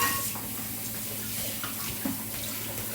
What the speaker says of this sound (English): This time I'm rinsing out the pepita.